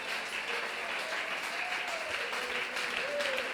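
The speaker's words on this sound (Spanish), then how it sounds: "Dele un aplauso al Señor en esta mañana" A church congregation claps steadily during a Spanish-language worship service, a dense, even wash of applause heard at a distance, with a faint voice and music underneath.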